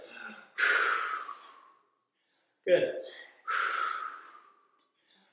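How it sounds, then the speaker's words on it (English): Two long, forceful exhalations during a core workout, loud and close, with a short sharp intake of breath between them and a brief spoken word at the start. "I'm really trying to exaggerate the breathing."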